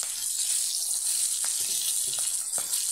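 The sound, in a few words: milkfish (bangus) frying in oil, coated in flour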